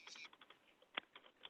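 Light, quick taps on a computer keyboard, a faint irregular patter of keystrokes with one sharper clack near the middle, quiet and close with no talking.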